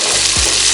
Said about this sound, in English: Go in with all of our onions.